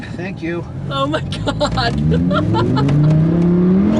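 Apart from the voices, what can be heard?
Lamborghini Huracán LP 610-4 accelerating on ride along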